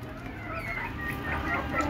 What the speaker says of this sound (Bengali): এই যে দেখেন, আমি দেশি মুরগি পালন করি